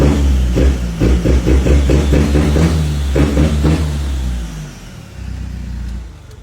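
Isuzu Revo diesel pickup with an Isuzu injection pump, its engine blipped in quick repeated revs as the throttle is pressed and released, then settling back to a steady idle. Loud and close, with no talking.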